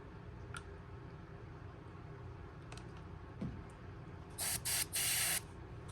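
Sotar airbrush loaded with carbon black paint sprays a fishing lure in a few short hissing bursts late in the clip, after quiet handling noises in a home workshop.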